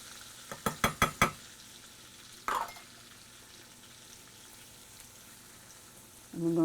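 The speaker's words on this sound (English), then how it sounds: "we're going to saute these for a few minutes" Onion and mushrooms sautéing in butter in a pan, a soft steady sizzle under a quick run of sharp utensil taps, another clack, then a louder scrape at the end; no talking.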